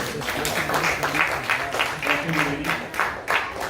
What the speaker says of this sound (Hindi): जोरदार तालियां वैष्णवी मिश्रा के लिए